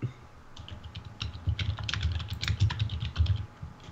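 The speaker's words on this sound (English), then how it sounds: "Loud typing noises." Rapid, loud keystrokes clatter on a computer keyboard, a dense steady run of clicks for several seconds with no talking.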